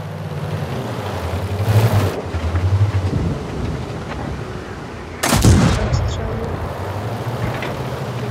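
Gunfire in a video game battle: two loud, sharp bursts ring out about three seconds apart, with a rumbling tail over a steady wind-like bed of background noise, while someone talks over them.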